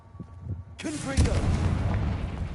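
A Confringo spell blast goes off in Hogwarts Legacy during a fight with spiders, a sudden loud fiery burst after a quiet start, followed by a sustained rumbling crackle with a voice shouting over it.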